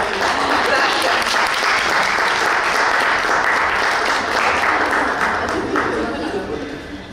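Loud, dense audience applause at a literary horror gathering, a continuous wash of many hands clapping that holds steady and fades slightly at the end.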